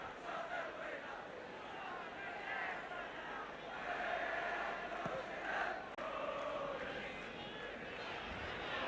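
A Tottenham Hotspur crowd roars in a stadium during a 1973 UEFA Cup match against Dynamo Tbilisi, a steady distant wash of cheering and chanting that holds throughout.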